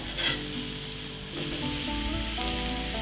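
Food sizzling and caramelizing on a Blackstone griddle, a steady loud frying hiss throughout with faint tonal background sounds layered beneath.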